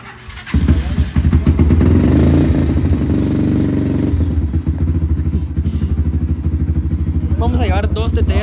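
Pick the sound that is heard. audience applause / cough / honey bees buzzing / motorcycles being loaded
motorcycles being loaded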